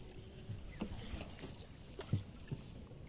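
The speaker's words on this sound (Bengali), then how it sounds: "আমি তো শুয়ে শুয়ে চালাচ্ছিলাম নৌকা।" A small boat rowed on open water in cold, windy weather, with soft splashes and knocks at irregular intervals over a steady wind rush; no talking.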